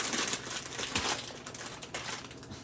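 Close, steady crinkling and rustling of a plastic rigatoni pasta bag being handled and torn open, with crisp irregular crackles throughout.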